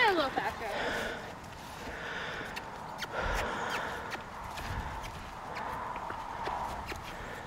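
An old horse's hooves clip-clopping at an uneven trot on firm ground, close by, with voices talking over the footfalls throughout.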